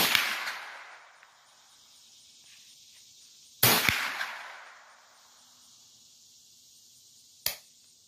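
Gunshots at an outdoor shooting range during a batch of seven rounds, three sharp cracks spaced seconds apart, the first two rolling into long fading echoes, the last shorter.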